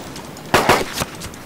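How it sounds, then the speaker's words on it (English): A few sharp gunshots in the zombie survival video game DayZ, three or four close cracks spaced irregularly over about a second, with no talk. "Stop shooting me."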